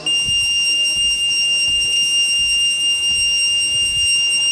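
Steady, high-pitched ringing from insects in a Meghalaya jungle, like a shrill, continuous bell tone that never lets up, with faint rustling underneath.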